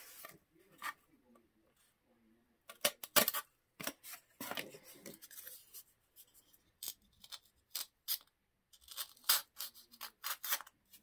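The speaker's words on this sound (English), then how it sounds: "I'm gonna finish cutting this out so you don't have to watch the whole thing." Material for a dollhouse bassinet is cut close by, giving irregular scratchy bursts of slicing and snipping with short pauses between them. No one speaks.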